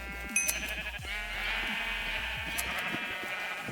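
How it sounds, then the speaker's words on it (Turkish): Minecraft sheep bleat continuously in a wavering, overlapping chorus, close and fairly loud, with small clicks and thumps beneath. "5 tane beyaz koyun vardır herhalde burada."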